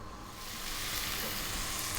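Ginger strips sizzle in a hot pan over high heat, a loud, steady crackling hiss that swells slightly and stays continuous.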